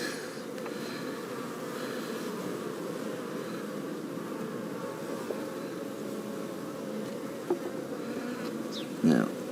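Honey bees drone steadily around an open top bar hive during an inspection, a dense, even buzzing throughout with a couple of brief knocks near the end.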